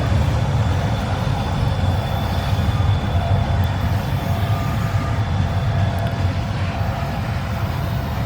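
A CSX freight train hauling ballast cars rumbles past nearby, a steady, loud, continuous roar of wheels and cars with no break.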